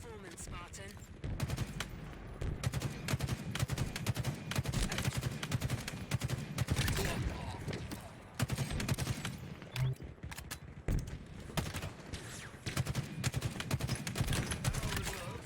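Rapid gunfire from Halo Infinite, including stalker rifle shots, crackles in dense continuous bursts across the whole stretch, loud and busy with overlapping shots and game effects.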